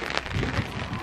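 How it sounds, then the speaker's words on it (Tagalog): Steady rain falling outdoors on stairs in Poland at night, a dense even patter filling the whole moment with no voices. "Umuulan, guys."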